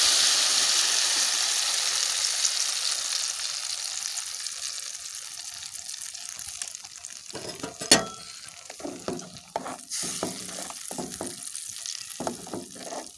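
Semolina and ground potato mixture is stirred in a hot pan, a steady sizzle fading over the first seconds into scraping, clattering spoon strokes and soft thuds, with no one talking.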